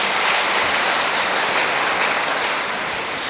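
A church congregation claps together during a sermon, a dense, loud and steady wash of applause that fades slightly toward the end.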